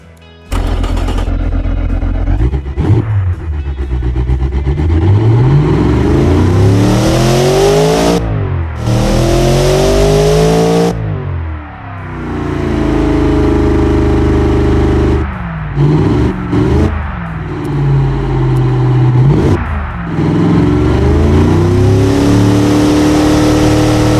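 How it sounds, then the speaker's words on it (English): An all-wheel-drive car built like a C63 AMG, with catalytic converters and twin reverse mufflers with bypass valves, revs loudly and repeatedly, the engine note rising and falling in long sweeps with brief pauses between pulls and no talking. "catalytic converters and twin reverse mufflers with bypass valves, so the engine can scream and stay quiet at low RPM"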